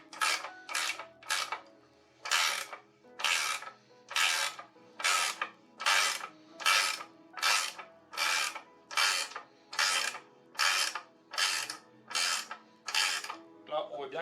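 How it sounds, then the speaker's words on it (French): Ratchet wrench tightening a press-fit bottom bracket into a bicycle frame, with about sixteen regular bursts of loud, close clicking ratchet strokes in a steady back-and-forth rhythm, no talking over them. "Donc là je viens serrer et mon Press-Fit va rentrer de lui-même dans le cadre."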